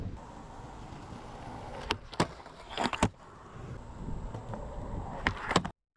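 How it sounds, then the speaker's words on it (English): A skateboard fitted with Grind King trucks rolls and grinds, giving a steady scraping rumble broken by several sharp clacks and pops as the trucks hit and leave the edge, with no talking. "we'll go ahead and start getting on some grinds"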